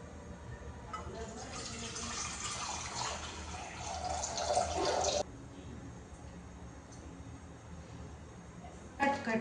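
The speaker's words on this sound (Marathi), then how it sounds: "सो मी आता याच्यात टाकते तांब्यावर पाणी" Water pours from a pot into a cooking vessel while making Maggi noodles, a steady splashing rush lasting several seconds before dropping away, with faint background sound and a brief noise at the end.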